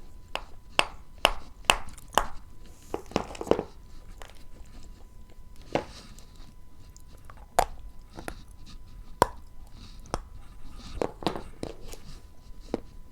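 Dried food pieces crunching between the teeth, a series of sharp, close crisp cracks and bites in bursts with quiet gaps between, no talking.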